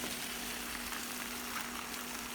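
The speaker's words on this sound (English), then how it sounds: "Stir-fry quickly over high heat." Blanched greens with stems and leaves, along with mushrooms, stir-fry in hot oil over high heat, producing a steady, even sizzle and hiss throughout with no talking.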